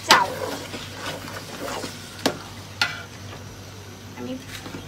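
Uncooked rice is tipped into a pot of dried-out meat for biryani, then stirred with a sizzling fry and scraping clinks of a spoon against the pot, moderately close with faint talk.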